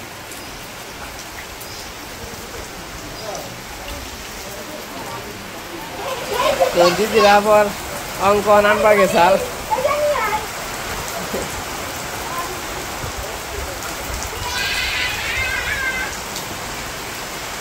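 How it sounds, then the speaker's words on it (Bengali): Steady rain falls as a continuous wash of hiss in a Bangladeshi village, with people talking over it in bursts partway through. "বৃষ্টি নামছে"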